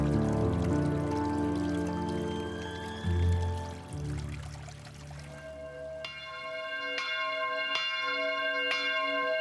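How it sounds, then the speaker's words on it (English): A seaside chapel's bells toll in a Japanese garden, with three or four clear, ringing strikes in the second half. Each rings out and decays, following running fountain water and a low rumble at the start. "Tonight, the bells of the seaside chapel toll"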